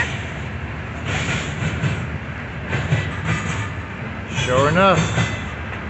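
A Norfolk Southern freight train rumbles steadily past a railfan tower with broadband rail noise, voices talking over it, and a brief squealing tone near the end.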